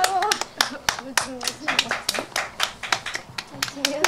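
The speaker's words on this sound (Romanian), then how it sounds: "Aplauze!" Family members clapping at a surprise birthday celebration in Gura Bîcului, a small group of hands clapping in a loose, uneven rhythm close by, with voices talking over it.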